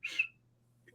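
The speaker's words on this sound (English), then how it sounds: "Blow the whistle." A single short, sharp whistle blast rings out, quiet and clean against near silence, followed by a faint low hum and a small trailing sound at the end.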